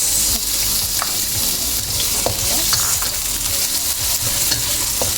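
Onion sautéing in hot cooking oil for a cabbage shrimp dish, a steady loud sizzle with stirring scrapes throughout, no talking.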